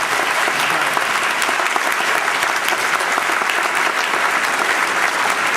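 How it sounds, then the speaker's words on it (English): An audience gives a sustained round of applause at an evening community STEM event, dense steady clapping filling the room for several seconds with no voices over it. "Can we get a quick round of applause for this?"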